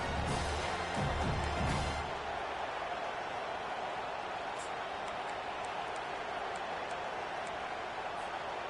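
A large stadium crowd in the video game Madden roars in a steady, dense wash of noise, louder at first, with voices talking over it.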